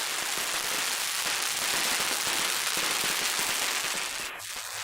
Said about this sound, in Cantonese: 雙手托着插滿煙火的彩龍奔跑如飛